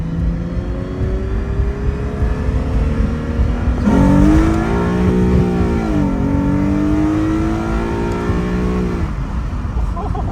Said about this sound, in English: I'll do a first gear pull just so you guys can see how this thing be ripping